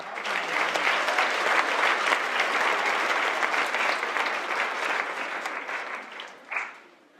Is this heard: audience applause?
yes